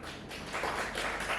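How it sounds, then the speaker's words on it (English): An audience at an academic conference breakout session gives a brief burst of dense, continuous clapping, close and fairly loud. "let's give a round of applause to our breakout teacher"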